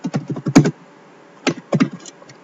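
Quick bursts of typing on a computer keyboard while entering an email subject, a rapid run of close, crisp key clicks followed by a pause and two more short clusters of taps.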